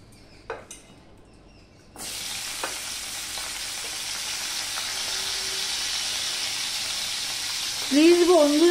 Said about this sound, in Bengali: এবার এই ছিমগুলো আমি ভেজে নেব।